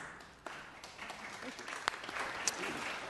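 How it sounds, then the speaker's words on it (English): Faint applause ripples through a legislative chamber at a city Board of Supervisors meeting, a soft, distant patter of clapping with a few sharper claps, mixed with murmured talk. "You can clap"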